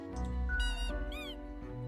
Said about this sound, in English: The toy cries out in the most despondent voice possible.